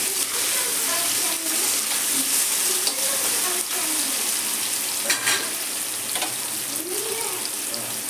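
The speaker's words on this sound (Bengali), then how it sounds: "সর্ষে, কালো জিরা, শুকনো লঙ্কাটা ভাজা ভাজা হয়ে যাওয়ার পর কুমড়োতে এইভাবে আমি মিশিয়ে দিচ্ছি।" Pumpkin frying in oil with mustard seeds, nigella seeds and dried chilli, giving a steady loud sizzle broken by scraping stirs and occasional clatters of a utensil against the pan.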